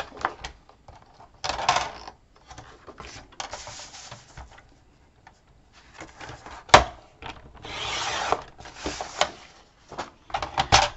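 Paper trimmer or blade cutting cardstock for a card base, heard as a few separate rubbing, scraping strokes with a sharp snap near the middle, close and fairly quiet, with no talking.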